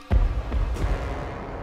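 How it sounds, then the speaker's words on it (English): Cannon artillery fires in a Warhammer fantasy battle video game. A sharp, heavy boom opens the sound, a few fainter thuds follow, and a rumbling din carries on behind them. "Look at the cannon fire there."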